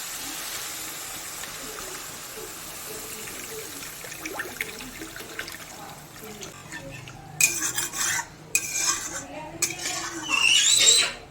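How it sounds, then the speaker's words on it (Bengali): Water pours into a pot of spiced curry for a dhokar dalna made with matar dal. Faint trickling and stirring are followed by louder scraping and utensil clatter near the end. "এবার পরিমাণ মতো জল দিয়ে দেবো।"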